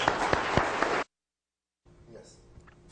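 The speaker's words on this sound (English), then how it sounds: "I think most of our contestants deserve a round of applause." Audience applause after a creation-versus-evolution debate on the Genesis flood, a dense burst of clapping lasting about a second before cutting to silence, followed by faint room noise.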